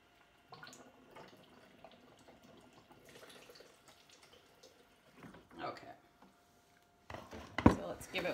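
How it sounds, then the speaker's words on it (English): Water is added to a blender while a raw vegan green zucchini noodle sauce is being made: soft, intermittent trickling and kitchen handling noises, then a louder, closer splash near the end. "I think I'm gonna add a touch more water just to make it a little easier in the blender"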